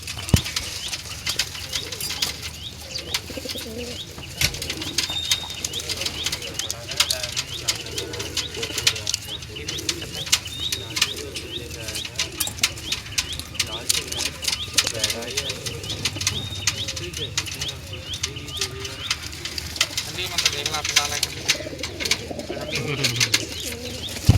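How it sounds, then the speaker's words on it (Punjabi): Pigeons coo steadily while wings flap and flutter throughout, a busy, continuous flock sound close by with a few brief scrapes mixed in. "ਥੱਲੇ ਆ ਹੈਗੇ ਆ ਬੜੇ ਕਬੂਤਰ"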